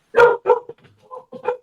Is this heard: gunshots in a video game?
no